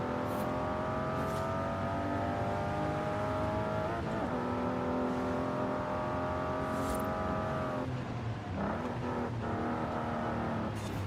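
Racing car with a Toyota 1GG engine in a driving game, a steady high revving note rising through gears with shifts and brief drops, loud and continuous with no talk.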